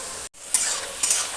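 A spoonful of ghee hits fried cabbage in a pan and sets off a bright sizzle. Two quick stirring scrapes follow in a short, close burst after a split-second gap.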